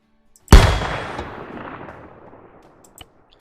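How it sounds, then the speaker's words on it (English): A mortar fires in the military video game Arma 3: one loud, close, booming blast with a long rumbling tail that slowly dies away, followed by a faint click. "Let's try the mortar."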